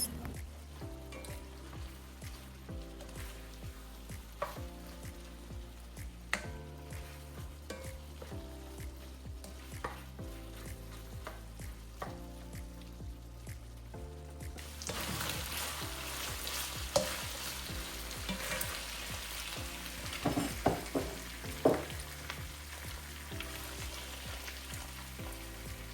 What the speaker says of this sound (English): So I will cook this up in the oil, like stir fry it until it changes color and like it's brown.